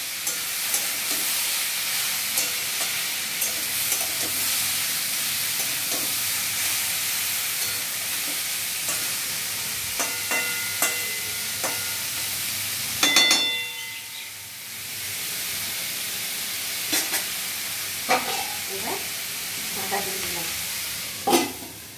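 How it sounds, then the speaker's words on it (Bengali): Bottle gourd peel fries in a pan with a continuous hiss and sizzle while a spatula stirs and scrapes, giving scattered clicks and knocks; a brief dip follows a louder clatter before the sizzling resumes. "নেড়ে চেড়ে মিশিয়ে দিচ্ছে।"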